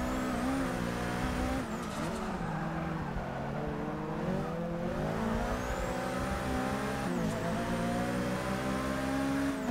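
A Mercedes race car in Forza Motorsport 6 howls at high revs, its engine note rising through the gears with brief drops at shifts, loud and continuous throughout.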